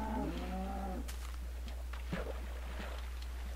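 A Minecraft Beta 1.8 cow standing in water lets out a single low moo near the start, followed by faint game sounds over a steady background hum.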